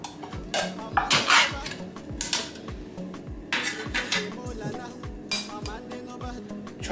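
Canned palm soup base (banga) emptied into a bowl in a kitchen, with repeated close metallic clinks and knocks of can and utensil against the dish at an uneven rhythm.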